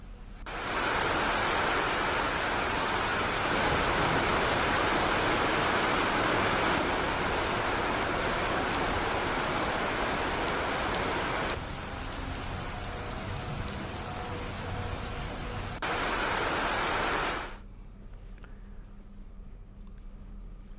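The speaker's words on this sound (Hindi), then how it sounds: "तेज हवाओं के साथ बारिश हुई। बारिश के साथ साथ ओले गिरे।" Heavy rain mixed with hail pouring down during a strong windstorm in Chhattisgarh, a dense constant hiss and patter that drops slightly partway through, then cuts off abruptly near the end.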